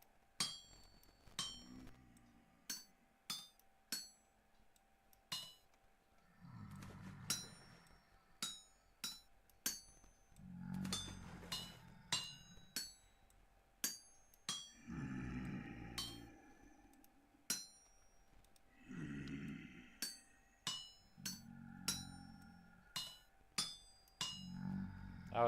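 Metal is hammered on an anvil while smithing in the survival game Vintage Story: sharp, ringing clinks strike in irregular bursts of several blows, pausing between sets, with low thumps and faint background sounds under them.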